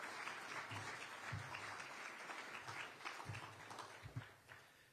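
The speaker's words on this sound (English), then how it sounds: "Let's take a moment to show our appreciation with a big round of applause for all our outstanding sponsors." Faint, distant applause for the sponsors at a modeling and simulation hall of fame ceremony: a continuous wash of many hands clapping together, steady and even throughout with no voices on top.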